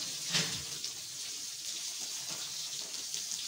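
Cows are washed down with water on a farm: a steady, faint hiss of flowing water runs throughout, with a brief splash near the start.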